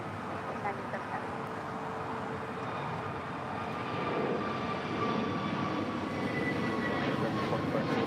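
A United airliner takes off from runway 25 right, its jet engine roar building gradually as a broad, distant rumble, with radio talk heard in the clip.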